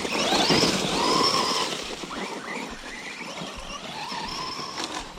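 A small RC car's electric motor whines and screams at high revs, rising and falling in pitch as it speeds up and slows, fairly loud and close, with no talking over it.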